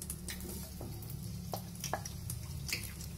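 Shallots softly sizzling as they sauté in oil in a pan for Indonesian rendang jengkol, a faint, steady frying hiss punctuated by a few light spoon scrapes and stirs.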